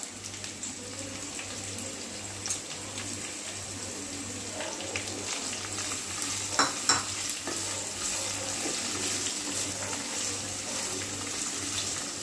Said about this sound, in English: Now after this I am going to add 2 big sliced onions.